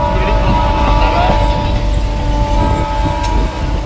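Crowded local commuter train rumbling along on a Sunday, with a loud, continuous low roar and rattle of the carriage and faint clatter, while indistinct chatter from passengers murmurs underneath.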